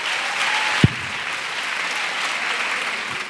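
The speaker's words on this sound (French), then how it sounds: "Clap for Jesus Christ." Congregation clapping for Jesus Christ at a church prayer service, a continuous, even spread of applause from many people, heard from a moderate distance, with one louder knock near the start and no voices over it.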